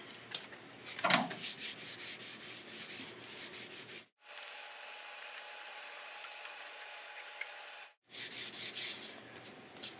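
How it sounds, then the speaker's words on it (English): Sandpaper rubs back and forth over a painted wooden baseball bat in close, rapid scratchy strokes, stopping twice for brief pauses before the rubbing resumes. "Try a little bit of sandpaper."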